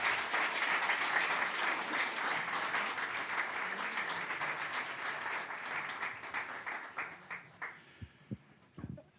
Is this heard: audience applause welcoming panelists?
yes